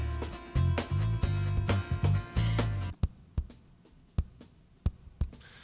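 Acoustic-kit preset kick drum in Logic 8 within a full drum pattern at first, then isolated with reverb: punchy low thumps spaced about every half second, each with a short tail, loud and close with no talk.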